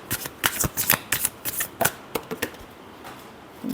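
A deck of tarot cards is shuffled by hand in quick riffling bursts, a series of crisp, close flutters and taps that trail off toward the end.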